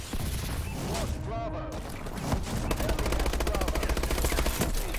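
Automatic weapon fire rattles in rapid bursts during a Call of Duty: Advanced Warfare multiplayer match, loud and dense across the whole stretch, with in-game effects mixed in.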